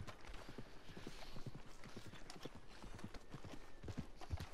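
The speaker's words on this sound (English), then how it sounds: "Now, I'm just gonna call my horse." Horse hooves clip-clop steadily in an irregular walking rhythm, fairly close, with an occasional faint snort and light background noise.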